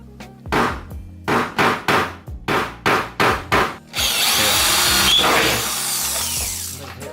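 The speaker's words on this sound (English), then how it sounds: "So I drilled a hole into the part that I was talking to you guys about with a 7/32 drill bit" A power drill with a 7/32 bit bores into a Subaru BRZ/Toyota FRS plastic car bumper: about eight short, loud bursts of whirring in a steady rhythm, then one long continuous grinding run through the material.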